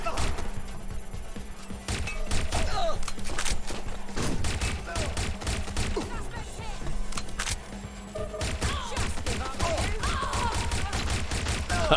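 Dense, continuous gunfire fills a Watch Dogs Legion firefight, rapid overlapping shots and thuds over a steady game soundscape, loud throughout with a voice speaking now and then.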